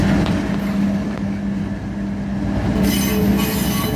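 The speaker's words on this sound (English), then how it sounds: "CSX 707 and ES44 ACH leads the train around this sharp curve in Hamilton, Ohio." CSX freight train led by an ES44AH locomotive rounding a sharp curve in Hamilton, Ohio, its wheels squealing steadily against the rails with a rumbling roll of railcars close by.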